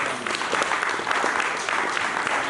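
Church congregation applauding loudly during a sermon, dense sustained clapping from many hands filling the room without a break.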